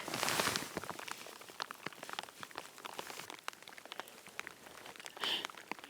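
Rain falls in a forest in a wildfire-burned area, a steady dense patter of drops striking leaves and ground at moderate distance, with a brief louder rush at the start.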